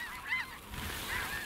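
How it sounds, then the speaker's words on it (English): A few nasal snow goose honks call out in short bursts, fairly near, with no other sound around them, near decoys. "There's a lot of geese in the decoys over there."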